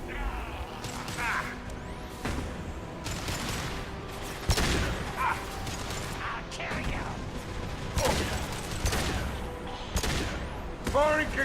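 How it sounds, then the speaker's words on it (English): Concussive shot and gunfire in the video game Mass Effect 2: repeated sharp, punchy blasts and impacts burst out at irregular intervals over a steady bed of game ambience and mechanical clatter. "Firing concussive shot."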